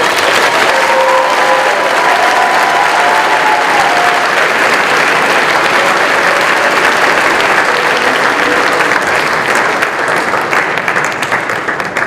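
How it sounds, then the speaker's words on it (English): Loud, sustained applause from a school audience after a fashion show performance fills the space, a dense wash of many hands clapping at once that holds steady for about twelve seconds with faint crowd noise mixed in. "can we have one more round of applause for that?"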